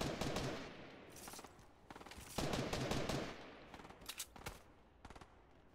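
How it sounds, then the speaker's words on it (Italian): Video-game gunfire in Fortnite, with several bursts of rapid automatic shots separated by short gaps, some sharp and loud and others softer and more distant, with no talk. "Che sta sparando?"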